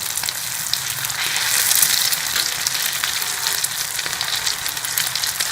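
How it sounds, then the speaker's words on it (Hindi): Chicken shami kababs fry in a pan with a close, steady sizzle and crackle of hot oil, slightly swelling for a moment before settling back to an even hiss, with no talking. "वो कबाब फ्राई कर देंगे"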